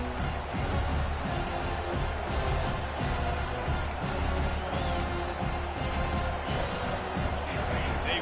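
Football game crowd in a stadium, a dense continuous roar of many voices at a fairly even level, with a commentator talking over it.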